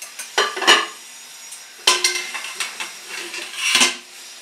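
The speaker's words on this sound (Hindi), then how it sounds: "अभी हम कुकर खोल देते हैं।" A pressure cooker holding steamed dal dhokla is opened with a few clanks and scrapes of metal lid and pans, loud and close, in short separate bursts with quiet gaps between them.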